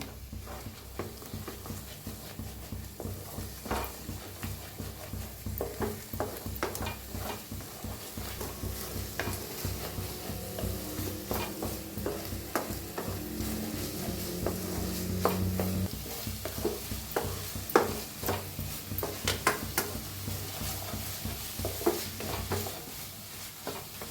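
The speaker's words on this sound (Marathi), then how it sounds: "सगळे असे अंडे फोडून हे करायचे, भाजायचे छान असं" Eggs cracked into a pan and fried over medium heat, a steady sizzle running throughout with repeated scraping and stirring taps of a spatula against the pan at close range.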